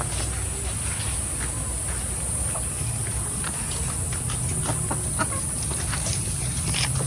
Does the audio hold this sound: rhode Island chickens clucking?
yes